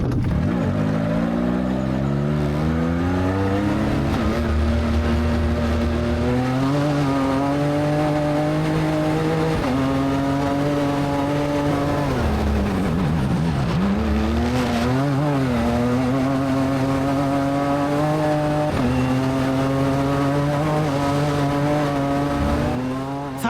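A car at the bp Ultimate Rally Raid Portugal prologue roars loud and close inside the cabin, its engine climbing and falling through repeated gear shifts, with brief dips as it eases off and no talking.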